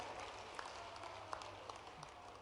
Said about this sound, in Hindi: दोनों हाथ ऊपर के जोरदार ताली बजा के अभिनंदन